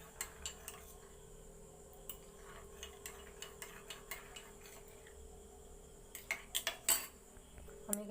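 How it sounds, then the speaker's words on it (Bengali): Yogurt is beaten with a ladle of hot milk in a bowl. A utensil taps the bowl in quiet, scattered clinks that turn into a quicker, louder burst of clatter near the end. "গরম দুধ এক হাতা দিয়ে দেবো আবারও আমি এটা ফেটে নিচ্ছি ভালো করে"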